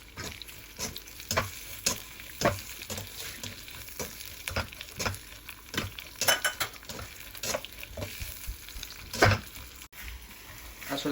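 Beef and onions cooking in a wok, with a soft continuous sizzle under repeated scraping and clinking strokes of a utensil against the pan, steady and close.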